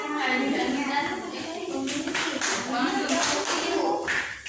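A small group claps steadily for a few seconds, close by, with voices murmuring underneath.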